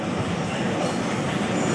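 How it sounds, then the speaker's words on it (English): A train runs on rails, heard from inside a car at the front of the train, a loud steady rumbling roar with no breaks and no voices. "There's another train."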